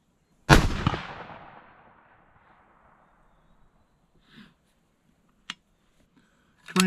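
A single loud rifle shot firing a Berger bullet, a sharp crack with a long decaying tail, followed by faint distant knocks and another sharp report at the end.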